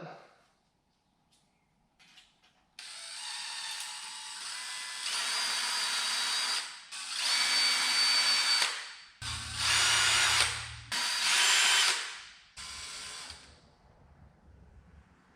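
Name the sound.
power drill drilling holes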